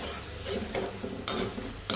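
Potato fries being refried in hot oil to crisp them, at a street-style egg and potato fries stall, give a steady close sizzle with a couple of sharp clicks from utensils. No one speaks.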